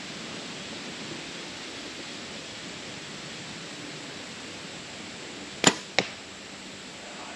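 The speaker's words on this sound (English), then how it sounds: "I'm gonna try ricocheting the arrow off this light into the bullseye, since it's Josh's car right there." An arrow loosed from a bow and glancing off a light into a bullseye target during an early-season bowhunt, heard as two sharp close impacts in quick succession over steady outdoor hiss.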